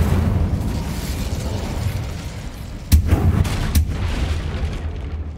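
A fiery Incendio spell burst in Hogwarts Legacy, with a rumbling combat background and then two sharp loud blasts close together, followed by a fading roar.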